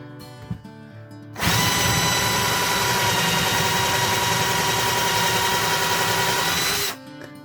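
A power drill bores into a wooden base, starting abruptly after a faint knock and holding a loud, steady whine for about five and a half seconds before cutting off sharply.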